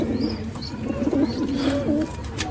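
Several pigeons coo continuously nearby in low, throaty rolling calls, with faint chirps above.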